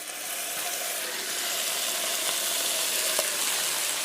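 Fish oil sizzles steadily in a pan of frying vegetables and tomato, a close, even hiss with occasional faint pops, and no voice over it.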